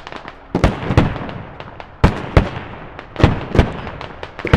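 Gunfire in the military shooter game Squad during suburban combat: a rapid series of sharp, loud shots and pops in irregular bursts, some close and cracking, others more distant, with no talk.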